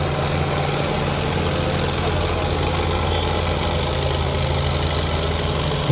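A Sonalika DI-750 tractor diesel engine idles nearby, a loud, steady low chugging rumble that holds unbroken from start to finish with no one talking.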